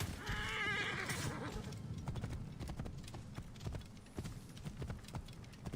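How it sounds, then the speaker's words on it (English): A horse in the video game Assassin's Creed Origins whinnies loudly at the start, then its hooves clip-clop in a quick, steady rhythm throughout at close range. "Oh shit, that's my horse."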